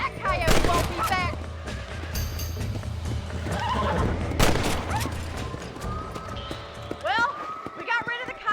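A horse neighs and whinnies in the Red Dead Redemption Western game, with hoofbeats, bursts of gunfire and someone talking nearby. A few loud whinnies rise above the clatter.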